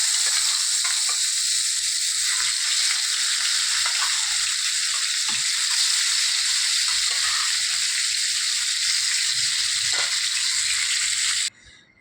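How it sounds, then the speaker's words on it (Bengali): Fish rubbed with salt and turmeric fries in hot mustard oil in a pan, giving a loud, unbroken hiss and crackle up close that runs for most of the stretch before cutting off abruptly near the end. "তেল গরম হয়ে গেছে, এখন আমি মাছ দেবো।"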